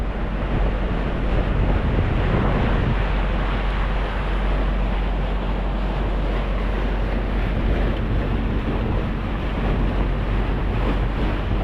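A motor-driven bangka cruises the open sea at around 8 to 9 knots on a sea trial, its exhaust pipe broken. The engine roar blends with wind buffeting and splashing water in one unbroken, loud wash of noise.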